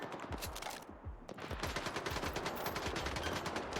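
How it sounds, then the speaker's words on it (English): Rapid bursts of gunfire from a video game as the player shoots into a building, dense repeated shots that pause briefly, then resume steadily and loud without talk. "I guess I gotta shoot my way in then"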